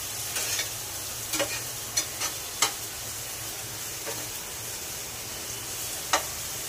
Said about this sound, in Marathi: कांदा परतत. कांदा परतेपर्यंत कांद्याला जरा गोल्डन रंग येईपर्यंत